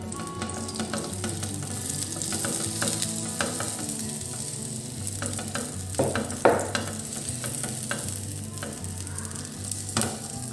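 Garlic naan cooking on a hot pan on the stovetop while garlic batter is spread over it, giving a continuous sizzle with scraping and brushing strokes and a few sharper clicks.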